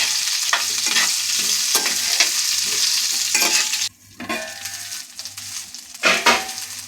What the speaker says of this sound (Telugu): ఉల్లిపాయ కొంచెం నూనెలో మగ్గనిద్దామండి, ఒక రవ్వ మగ్గాలి.